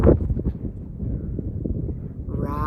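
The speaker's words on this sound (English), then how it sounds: "it's very windy, super windy" Strong wind gusts buffet the microphone outdoors on an exposed rock bluff below orange cliffs, a steady low roaring rumble that swells and eases throughout.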